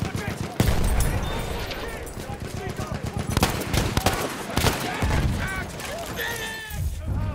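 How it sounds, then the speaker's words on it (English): Battlefield 1 trench combat on the Nivelle Nights map: rapid bursts of machine gun fire crackle amid other gunshots and explosions, loud and continuous, with in-game voice callouts heard over the gunfire. "Machine gun. Hostile."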